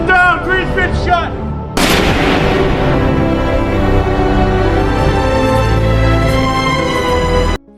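Loud gunfire from a gangster film scene, with a dense run of sharp, booming shots that carries on almost continuously over a tense score, close and heavy.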